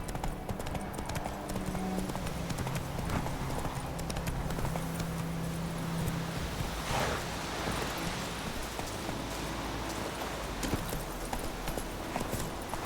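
Horse hooves in The Witcher 3 video game beat out a steady, rhythmic clip-clop throughout, close and continuous over a constant ambient background.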